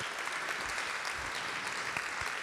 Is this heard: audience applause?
yes